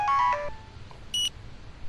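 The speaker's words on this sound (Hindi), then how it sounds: "लगता है डैड का फोन आ गया" A phone rings with an incoming call in a dramatic film scene: a short burst of bright electronic melody tones, then a brief higher beep after a pause, with no talking.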